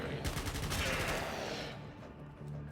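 Muffled bursts of rapid automatic gunfire rattle through a Warframe mission, dense at first and then thinning out, faint and somewhat distant.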